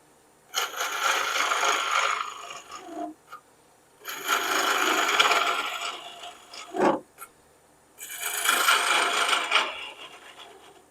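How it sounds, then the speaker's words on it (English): A wood lathe tool takes a peeling cut on a spinning wooden snowman blank, giving three long, loud rasping bursts of a few seconds each, separated by pauses and a brief scrape. "Now I'm going to do a peeling cut and clean a lot of this off."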